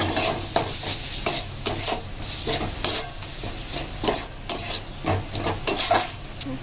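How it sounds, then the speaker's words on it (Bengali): Spices and fresh coriander leaves frying in a pan for a potato curry, with a spoon scraping and stirring in a steady rhythm over a continuous close sizzle. "দিয়ে ভালোভাবে মশলা সঙ্গে মিশিয়ে নেব আর একটু ধনে পাতা দিলাম"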